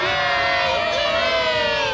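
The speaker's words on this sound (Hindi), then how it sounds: "और जब लगभग हम में से सब जंबोट्रॉन पर दिखे, हमारे आसपास भीड़ जमा होने लगी।" A loud crowd cheers and shouts continuously at an Angels baseball game in the stadium, a dense sustained roar of many voices with whoops.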